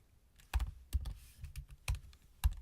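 Keystrokes on a computer keyboard while code is written, about six distinct taps with uneven gaps, close and fairly quiet, with no voice.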